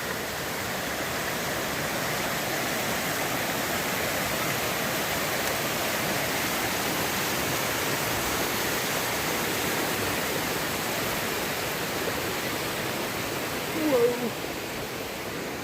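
Dungeness River water rushing steadily at a hiking crossing in the Olympic Mountains, a continuous broadband roar close by and unbroken, with a brief faint sound near the end.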